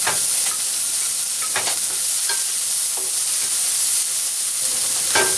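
Chile stirred into rice in a hot pan, a steady loud sizzle with steam hiss throughout, broken by several sharp scraping stirs of a spoon against the pan.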